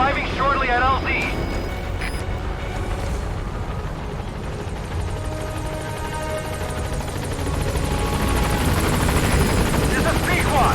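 A helicopter, the Pequod in Metal Gear Solid 5: The Phantom Pain, comes in to a landing zone with a loud, steady rotor roar that carries through the whole stretch while a voice talks over it.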